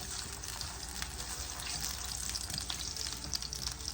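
A corn tortilla frying in a tablespoon of hot oil for beef birria gives off a steady, close sizzle and crackle that holds an even level throughout without pause, with no voices over it.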